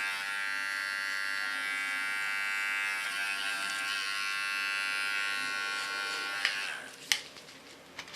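A small electric hair clipper buzzes steadily and close while cleaning the contour of an ultra-short platinum pixie cut, with a few sharp clicks and taps toward the end.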